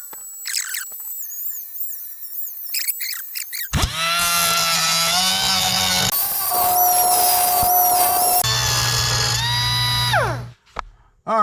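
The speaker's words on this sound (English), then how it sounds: "let me get the Dremel tool next" A Dremel rotary tool grinds down a weld on a Mercedes R107 control arm mount, whining at a high steady pitch in several sustained passes with squealing changes in tone, close and loud.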